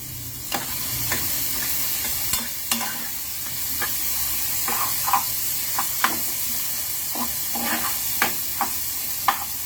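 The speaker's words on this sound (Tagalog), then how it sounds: "Bumili ako ng pusit, lulutuin ko." Squid cooks in a pan at a home fiesta, giving a steady hiss of frying oil with scattered scraping and clinking strokes from stirring throughout, and no voices.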